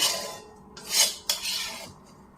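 Roasted cashews tipped from a hot kadhai into a metal dish, with scraping and clinking of utensil on metal in a couple of brief bursts, close up and without talk.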